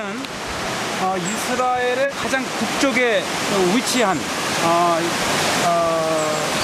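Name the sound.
flowing stream water in forest at Tel Dan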